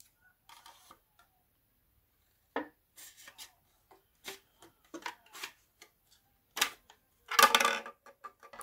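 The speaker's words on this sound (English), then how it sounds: "So I'm going to cut the yogurt pot in half." Scissors snip through a plastic yogurt pot to halve it, giving scattered short crunchy cuts and crackles of thin plastic with quiet pauses between them and one louder burst near the end.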